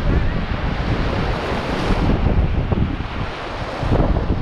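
Sea waves crashing loudly and close against the shore, a continuous roaring surge of surf with wind buffeting the microphone.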